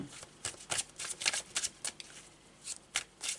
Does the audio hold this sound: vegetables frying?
no